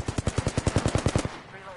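Automatic weapon fire in Apex Legends: a fast, evenly spaced burst of about a dozen close, punchy shots that cuts off and leaves a brief fading tail.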